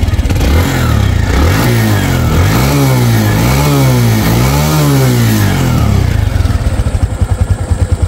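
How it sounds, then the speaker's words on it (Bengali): A TVS Stryker 125 motorcycle engine, in good running condition, idles loudly up close and is then revved several times in a row, each throttle blip rising and falling before it settles back to a throbbing idle. "তো বাইকটা যদি আপনাদেরকে স্টার্ট করে সাউন্ডটা দেখায়, দেখুন অনেক সুন্দর কিন্তু সাউন্ড কন্ডিশন"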